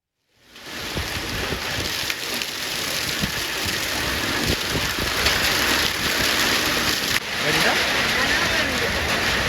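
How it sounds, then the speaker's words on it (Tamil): Heavy rain pouring down steadily for a second day over the Veppanapalli area of Krishnagiri district, a dense, continuous broadband wash of downpour that stays loud and even throughout. "வேப்பனப்பள்ளி சுற்றுவட்டார பகுதிகளில் தொடர்ந்து 2வது நாளாக கனமழை கொட்டி"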